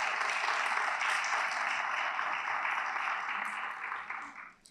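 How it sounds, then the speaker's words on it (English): Audience applauding at a school district principal and assistant principal of the year awards ceremony, a dense, even wash of clapping that holds steady and then begins to fade at the end. "Let's give the two of them a round of applause."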